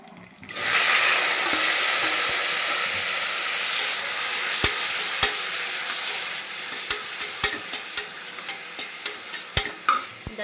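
Tomatoes hit hot oil in a pan with a sudden loud sizzle that settles into a steady close hiss, joined by spoon taps and clicks that grow more frequent toward the end; no talking.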